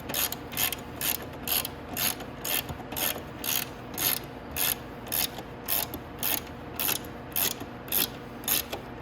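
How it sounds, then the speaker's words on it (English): A ratchet tightens the axle bolts on a Venom X22R Max 250cc motorcycle, with loud, close bursts of rapid clicking repeating in a regular rhythm, about two strokes per second, with no talking. "we can tighten up our axle bolts"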